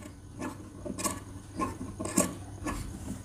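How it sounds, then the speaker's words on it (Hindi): Scissors cut fabric over stiff buckram in a curve for a kurti neck design, a few short crisp snips and rubbing sounds in an irregular rhythm, close and quiet. "गोलाई में ऐसे कट लगाएंगे"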